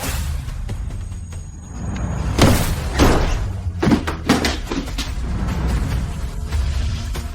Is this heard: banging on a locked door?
yes